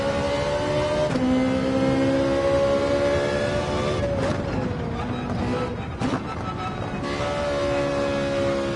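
A car engine in the Gran Turismo 7 racing game holds a loud, sustained drone, its pitch shifting as the throttle is eased and reapplied around a corner, with two brief dips in between.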